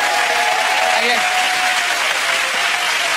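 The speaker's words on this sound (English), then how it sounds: "And a big cheer to the Brompton Satanist Society." A comedy TV studio audience cheers and applauds for a steady three seconds, loud dense clapping with crowd voices mixed through it.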